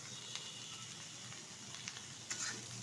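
Chopped neem leaves and a medium brinjal, salted, fry in a pan with a soft, steady sizzle and a few light stirring scrapes, quiet and close, with no talking.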